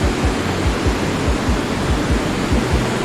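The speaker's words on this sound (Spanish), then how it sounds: "Allí se formó la cascada de Gullfoss, conocida como las Cataratas Doradas de Islandia" Gullfoss, a glacial river waterfall in Iceland dropping in two tiers into a deep canyon, roars as a steady, dense wash of falling water with deep low rumbling pulses, loud and continuous with no voices.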